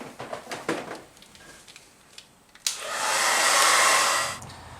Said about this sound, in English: I just need a hair dryer to shrink